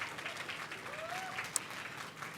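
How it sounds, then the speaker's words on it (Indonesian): Faint, distant audience clapping at a smartphone launch event for the OPPO Reno 15, soft and diffuse, with a brief sharp click partway through. "Tepuk tangan lagi dong buat Reno 15."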